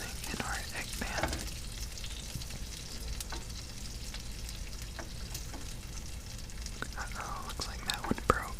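Butter melting and sizzling in an egg pan beside frying eggs, a soft steady crackle broken by brief scraping and tapping, with a quiet whispering voice over it.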